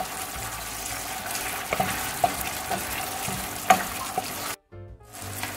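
Eggplant stirred into tomato sauce in a pan, giving a close, steady sizzle with scattered clinks of utensil on pan, then a brief dropout near the end before the cooking noise resumes.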